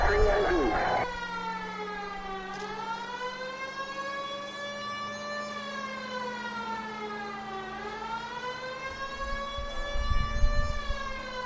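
A police car siren wails continuously in LA Noire, rising and falling in long sweeping cycles, loud and close over a low engine hum.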